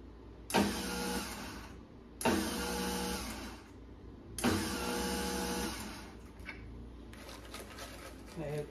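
Vitamix blender grinding sticky pineapple peels, running in three loud close bursts separated by short pauses, then a quieter stretch of rattling and faint speech.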